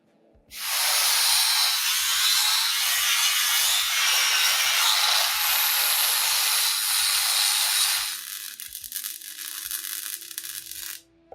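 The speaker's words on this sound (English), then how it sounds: "I'm going to grind this down now flat, and that will allow us then to be able to weld on a plate." A grinder works the dumb iron at the front of a Land Rover chassis down flat, a loud, harsh, continuous abrasive roar of metal that lasts about seven seconds before easing to a quieter scraping and stopping.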